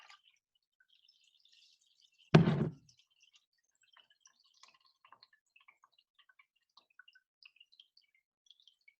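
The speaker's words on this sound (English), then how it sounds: "I'm going to make it rain over the clay." Water poured over clay in a small rain model lands in one brief splash, followed by faint, scattered drips in an otherwise quiet room.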